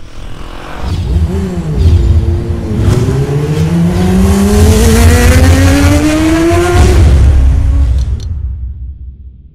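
AKT TTX200 motorcycle accelerating hard, a loud close engine rising steadily in pitch through several gears with a brief dip between, then cutting off at the end.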